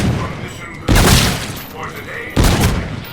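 Two loud, sharp M1 rifle shots about a second and a half apart in a Call of Duty: Infinite Warfare zombies match, each with a booming tail.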